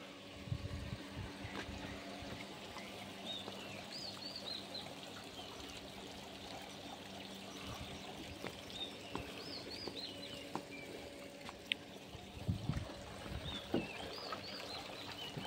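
Water trickles and dribbles gently from an old stone once used for grinding chili paste and soybeans at Terrapuri Heritage Village in Terengganu; a soft, steady flow with faint patters, heard alone.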